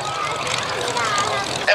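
Spitfire Mk.IX piston-engined fighter at an airshow at Duxford, its engine a steady broadband drone heard at moderate distance under continuous public-address commentary, with a brief louder swell near the end.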